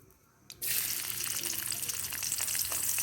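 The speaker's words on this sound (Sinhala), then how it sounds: "තෙල් එක රත් වෙගෙන එති අපි මේකට සුදු ලුණු" Garlic drops into hot coconut oil in a pan, setting off a sudden burst of loud, crackling sizzle that keeps going steadily and close by after a quieter moment.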